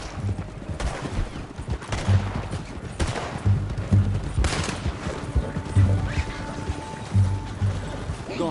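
A PS4 game gunfight with repeated loud, close shots and short bursts at an uneven rhythm, mixed with mechanical clatter, and someone talking under the shooting.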